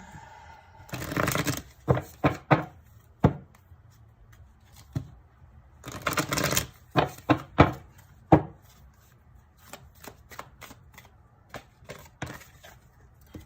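Playing cards riffled and bridged several times, two long loud bursts of shuffling separated by sharp snaps and taps as the deck is squared and handled, close and alone with no talk.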